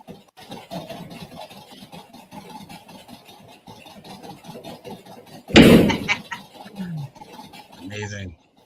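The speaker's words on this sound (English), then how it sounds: "Oh, here come all the drawers." Drawers slam shut in a burst of loud, clattering impacts during an apparent paranormal disturbance, rising sharply out of a steady engine-like rumble and talking, then followed by a few more scattered knocks.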